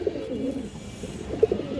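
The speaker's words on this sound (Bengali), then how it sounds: "এই দেখেন দর্শক বাঘা মাদি কবুতর" A big female Bagha pigeon coos in low, soft, throaty bursts close up, with a brief louder coo near the end and no talking.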